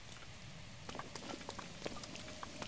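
Steady rain falling in The Legend of Zelda: Breath of the Wild, a dense even hiss with scattered brighter drop ticks and patters throughout, no voices.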